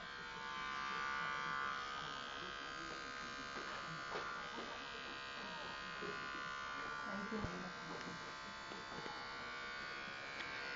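An electric hair clipper buzzes steadily while cutting hair, a close, constant whine with small scraping changes as it passes over the head, while people talk over it.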